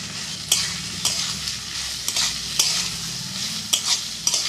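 Onion, garlic and green chili fry lightly in a pan, a steady close sizzle with a spatula scraping and stirring every second or so, for a chicken bhuna.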